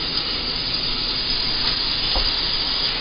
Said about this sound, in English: I'm going to take a tablespoon or so and chop garlic and toss that in there